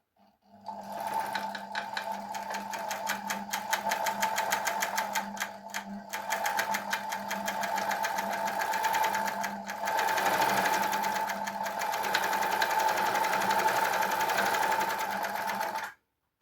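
A three-thread overlock sewing machine runs steadily at speed, a close continuous mechanical whir and rapid needle chatter with a brief slowdown midway, then stops abruptly.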